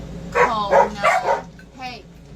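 Four quick dog barks in a rapid rhythm, then a softer whiny yip, fairly close with some room noise beneath.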